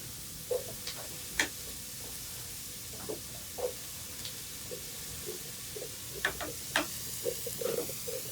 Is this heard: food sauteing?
yes